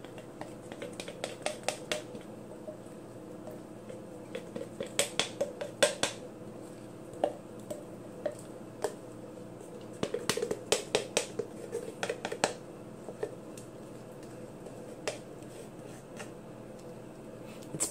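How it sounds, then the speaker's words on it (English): Almond butter scooped into a pot while making dulce de leche, a spoon tapping and scraping against the rim in quick irregular clicks, some clustered and some isolated, fairly close. "I'm just gonna put the rest of the almond butter in."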